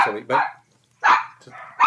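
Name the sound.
dogs barking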